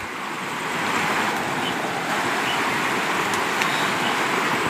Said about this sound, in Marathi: नदीचा पूर एकदम जोरात आहे